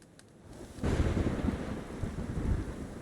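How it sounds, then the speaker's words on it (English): Thunder rumbles deep and loud during a rainstorm in The Witcher 3, swelling suddenly from a quiet start into a sustained rolling roar with rain and wind beneath. "And more thunder and light."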